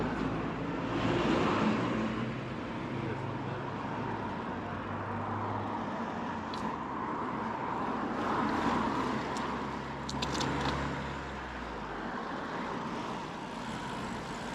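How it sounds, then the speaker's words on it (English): Cars pass on a road in north-west Edinburgh beside a cyclist stopped with a Brompton folding bike, a steady low traffic hum with a few swells as vehicles go by, moderately distant and without talk. "Gonna let some of this cars past"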